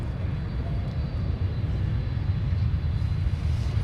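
An airplane takes off at Minneapolis airport, a steady low roaring rumble heard from a distance with no clear rise or fall over a few seconds.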